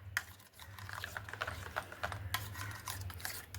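Light, rapid clicking and scraping of a spoon stirring food colouring into a sago papad mixture in a bowl, close and fairly quiet over a low background hum; no talking.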